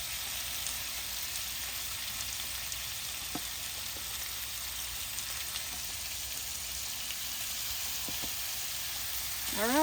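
A whole package of bacon sizzles on a Ninja Woodfire XL Pro grill griddle, giving a soft, steady frying hiss that stays faint and even throughout, with a few tiny pops and a brief squeak at the very end.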